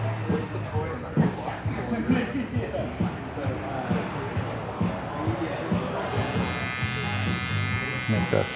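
Electric hair clippers buzz steadily while tapering the sideburns on a mullet haircut, the hum running close and continuous beneath ongoing talk.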